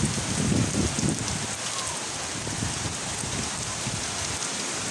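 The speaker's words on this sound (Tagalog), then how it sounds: "talagang malakas talaga ang hangin, tapos sabay pa ng ulan." Heavy rain with strong wind during Typhoon Paeng on the sea coast of Southern Leyte, a dense steady roar of downpour with low gusty rumbles, loud and continuous throughout, no talking.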